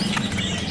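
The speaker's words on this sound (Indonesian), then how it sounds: "di sini ada burung trusuk kebo" Songbirds at a kiosk in the Pramuka bird market give busy overlapping chirps and calls, fairly loud and close, over a steady background of market noise.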